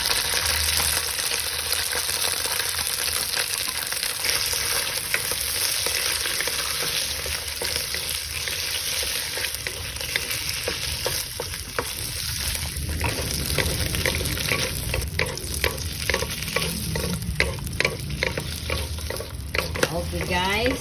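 Shiitake mushrooms sauté in hot oil with a continuous bright sizzle and crackle, close and loud, punctuated by the rhythmic scrape and clatter of stirring that grows busier toward the end.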